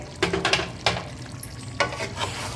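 Chicken in a spicy bhuna masala gravy cooking on low flame, with soft sizzling and a few scraping stirs of a spoon in the pan, quiet and close, no talking.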